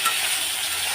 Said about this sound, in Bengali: এখন শুধু শিমটা ভাজা হলেই হয়ে যাবে